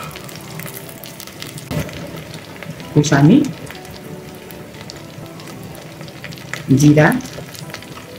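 Mutton frying with onion, ginger, garlic and garam masala for a mutton leg soup: a steady low sizzle runs under a person talking, with two louder bursts of crackling as more goes into the pan.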